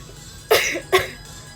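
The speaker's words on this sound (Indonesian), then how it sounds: "Tuh kan jadi batuk." Two short, sharp coughs in quick succession, close and fairly loud, with nothing else around them.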